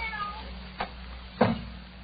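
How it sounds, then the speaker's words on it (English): A cat lets out two distinct meows in a quiet bedroom, the second louder and closer, over a low steady hum. "Slip the cat in."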